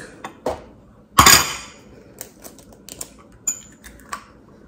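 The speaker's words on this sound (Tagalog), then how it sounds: "mag-crack lang tayo ng 2 eggs" Two eggs cracked against a hard edge in a home kitchen: one sharp loud crack stands out, surrounded by smaller clicks and taps of shell and utensils, close and clear with no talk.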